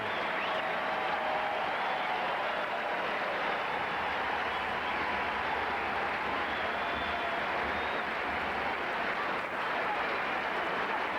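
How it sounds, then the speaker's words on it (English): Andre Agassi and Alex Corretja play a 1995 US Open second-round tennis match, and the crowd applauds loudly and steadily, a dense, even wash of clapping for the whole stretch. "And the crowd very appreciative."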